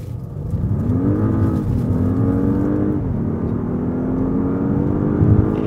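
A 2013 Audi S8 accelerating hard from 0 to 100 km/h: a loud engine note climbs steadily in pitch, breaks briefly at two gear changes, then pulls on strongly and continuously.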